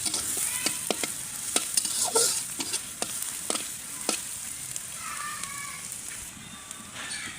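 Chillies and onions frying in mustard oil, a steady close sizzle punctuated by repeated sharp spatula scrapes and knocks against the pan as they are stirred.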